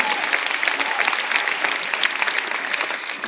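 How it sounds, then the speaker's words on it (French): A concert audience at the Olympia applauds in a dense, continuous wash of clapping that holds steady throughout and fades slightly at the end. "Ouais, vous pouvez les applaudir"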